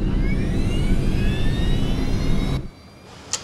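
Airliner jet engines spool up to takeoff thrust, a loud, rising whine over a broad roar that cuts off abruptly near the end, followed by quieter sound and a brief click.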